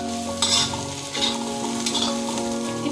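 Egg bhurji fries with onions in oil, a loud, continuous sizzle broken by quick scraping stirs of a spatula, with a faint tonal background underneath.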